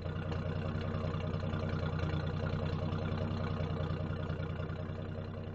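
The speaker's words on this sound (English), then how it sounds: "it does sound rather like a V8" A 1982 Jeep Wagoneer's engine idles steadily and close by, deep and throbbing, its V8-like rumbling exhaust pulsing evenly without pause for the whole stretch.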